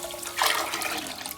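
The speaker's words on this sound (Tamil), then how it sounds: "5 கப்பு தண்ணி ஊற்றிக்கலாம்." Water being poured into a cooking pot for making pongal with rice and moong dal, a steady splashing, gurgling pour heard up close and alone.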